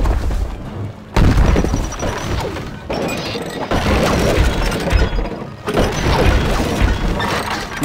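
Trebuchets in Stronghold Crusader HD creak and ratchet through their loading mechanisms, then loud crashing impacts follow in repeated bursts, with battle clatter throughout.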